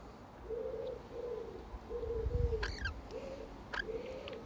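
Near a garden bird bath, soft hooting coos repeat in a slow, even rhythm, faint against quiet outdoor background noise, with a couple of brief higher chirps from other birds.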